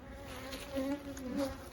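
Honey bees hum steadily at a hive in a bee yard, a close droning buzz that rises and wavers as individual insects pass near.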